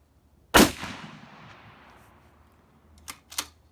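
A single loud, sharp report from a SlapShot mechanical adaptable projectile round, with a decaying tail, followed by two quick mechanical clicks.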